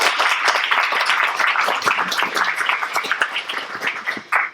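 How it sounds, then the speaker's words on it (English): Audience applause after a talk on Japanese American incarceration history, a dense crackle of many hands clapping steadily for several seconds and swelling briefly near the end. "So round of applause for these two."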